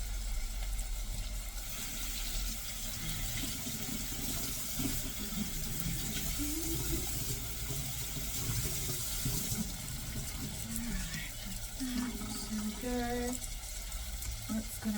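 Running tap water splashing over a bunch of fresh coriander in a kitchen sink, a steady, fairly quiet rush of water with faint tonal sounds and muffled background noise toward the end.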